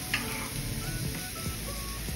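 Chicken bibimbap being stirred and mixed in a bowl, a brief stretch of soft scraping and clinking over a steady background hiss.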